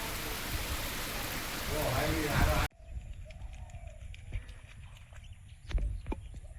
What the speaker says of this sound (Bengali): এক্ষুনি এত বৃষ্টি এসছে কি বলবো